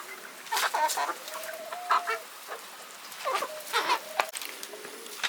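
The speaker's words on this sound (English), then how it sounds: "Those are my Hamburg chickens." Hamburg, silkie and bantam chickens cluck at a farm during a snowstorm, giving scattered short calls in bursts that are close and fairly loud against a quiet background.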